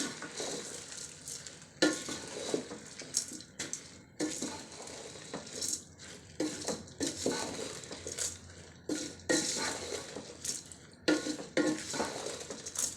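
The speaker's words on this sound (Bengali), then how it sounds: "চাল ডাল একসঙ্গে দিয়ে এখন নেড়ে নিব।" Rice and lentils for vegetable khichuri being stirred together in a pot, with repeated close scraping and rustling strokes over a light sizzle and no talk.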